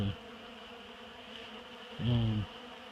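Soft buzzing of bees close by, a steady faint hum with a louder buzz as one passes near toward the end.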